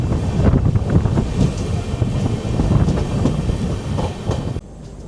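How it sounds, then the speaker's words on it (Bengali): The Kandari Express from Howrah to Digha runs at night with a loud, continuous rumble and rattle of wheels on rails, heard from on board with wind buffeting, until the noise suddenly drops away near the end. "দেখুন এই ট্রেন ঘুরছে, পুরো টার্ন নিচ্ছে ট্রেন"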